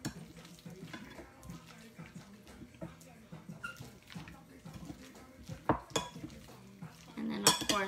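Chicken salad being mixed in a bowl with gloved hands in a home kitchen, with soft scraping, clinks and wet stirring sounds that grow louder toward the end, alongside light background noise.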